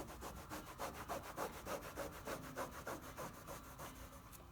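Scrubbing a dirty car armrest with Meguiar's detail cleaner makes a rapid, rhythmic back-and-forth rubbing, close and fairly quiet, with no talking.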